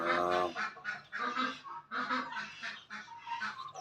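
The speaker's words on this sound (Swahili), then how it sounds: "Kuna kanga weupe wawili" Two white guinea fowl and young ducklings being raised at home call in a string of harsh, honking bursts, close and fairly quiet, with short pauses between calls and no talk.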